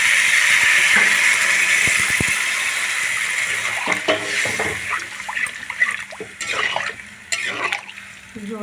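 Water poured into a pan of simmering fish curry with cauliflower and potato, a steady trickling and splashing up close that thins out into scattered drips and small clinks.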